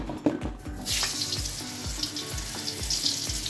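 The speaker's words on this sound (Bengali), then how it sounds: "এর মধ্যে একটু লাল লাল করে ভেজে নেব।" Salted, turmeric-coated potatoes fry in hot mustard oil with a steady broadband sizzle, punctuated by repeated low thumps and scrapes as pieces are moved in the pan, close and fairly loud with no talking.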